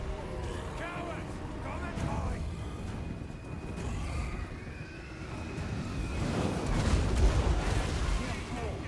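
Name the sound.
cannon fire in a video game battle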